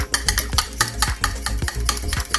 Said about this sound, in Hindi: देखो जी, मैंने मिक्सर डाल दिया इसका।